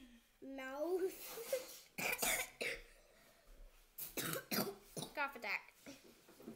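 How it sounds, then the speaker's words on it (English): A burst of harsh, repeated coughing, several hacking coughs in quick succession, close and loud, with a voice at the start. "Cough attack."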